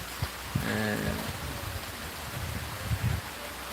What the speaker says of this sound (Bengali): শুরু হয়েছে বৃষ্টি ঝিরিঝিরি বৃষ্টি